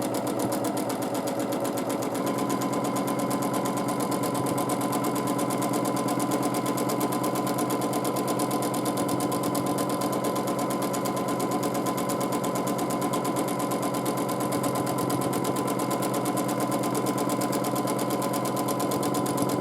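A sewing machine stitching free-motion quilting lines on the diagonal, its motor humming in a fast, even, continuous whir at close range for the whole stretch, with no voices.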